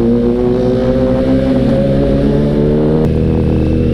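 A heavy CFMoto NK400 motorcycle engine hums and revs in steady, loud tones in slow traffic, with a sharp shift in pitch about three seconds in, no talking.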